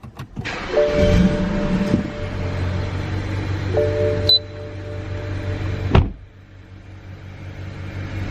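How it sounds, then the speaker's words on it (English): A BMW 335i E90 with an automatic transmission cranks and starts, the engine catching with a rising rev and then settling into a steady idle hum, with a few clicks and chimes from the cabin. "let's start the car and just see if we can notice any changes from the beginning"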